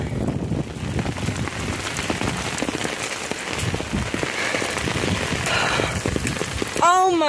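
Heavy rain falling steadily around someone running outdoors, a dense continuous hiss with spattering drops, close and loud, with a brief squeaky sound near the end.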